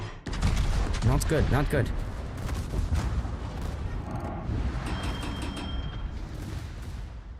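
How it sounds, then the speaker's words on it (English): Torpedo hits strike the stern of a warship in a naval battle video game. A burst of heavy booming explosions and crackling blasts rises and then rumbles on, while a voice speaks briefly over the din. "They are penetrating the aft with torpedoes."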